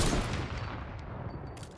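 Sniper rifle fire in Fortnite opens the moment with a loud crack that trails into a rumbling echo, decaying steadily over under two seconds with no talk.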